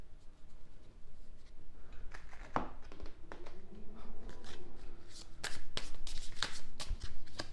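A deck of oracle cards is shuffled by hand at close range, soft riffling and sliding with sharper snaps and flicks near the end, steady and fairly quiet with no talking.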